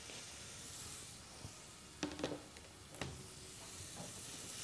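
Onions sizzle and fry in a pan with a steady hiss, broken by a few louder crackles and stirring knocks partway through.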